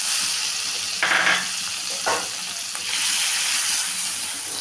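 Chicken mince dropping into hot oil with chopped ginger, garlic and green chilli, a steady loud sizzle with brief surges as it is stirred.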